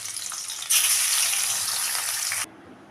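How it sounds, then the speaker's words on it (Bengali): Pieces of katla fish hit hot oil and set off a loud, steady hiss of frying that rises sharply, holds for nearly two seconds, then cuts off abruptly, leaving a quieter low background. "এখন মাছগুলোকে ভেজে নেব।"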